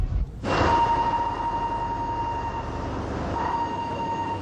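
A freight train from Tianjin, China, bound for Mongolia rumbles along with a steady metallic hum and faint wheel squeal, a continuous mechanical drone with no voices.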